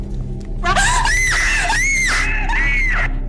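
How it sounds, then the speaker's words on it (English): A woman screams loudly in a haunted monastery, giving three long rising and falling shrieks close by that fill the clip. "I heard some screaming."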